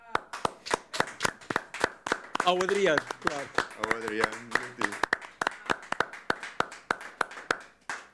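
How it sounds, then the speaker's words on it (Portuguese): An audience claps hands in a steady rhythmic beat, sharp regular claps running the whole time while a voice speaks and briefly sings over them. "Podemos bater palmas."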